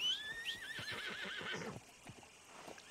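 A horse in the video game Red Dead Redemption 2 lets out a loud, wavering whinny followed by snorts and hoofbeats clopping close by.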